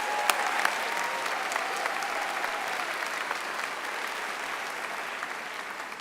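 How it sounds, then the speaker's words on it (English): Sustained applause from a large graduating class at a Florida Atlantic University spring commencement ceremony, a dense steady wash of clapping that holds evenly throughout with a few sharper claps near the start. "Give yourselves a round of applause."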